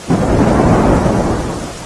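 Heavy rain pours down with a deep rolling peal of thunder in Dhoraji and Upleta near Rajkot, a loud, dense roar that swells quickly and then slowly fades over about two seconds, with no voices.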